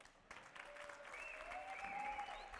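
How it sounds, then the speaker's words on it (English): An audience at a pro racquetball finals event in Alaska claps, steady applause building slightly and filling the moment, with a faint voice underneath. "Let's give a round of applause to these guys."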